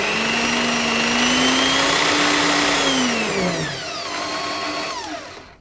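A Bosch PBD40 pillar drill motor runs up at a steady, loud whine, its pitch sliding down near the end as the speed changes, with no talking.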